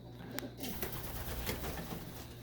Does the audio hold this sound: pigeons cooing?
yes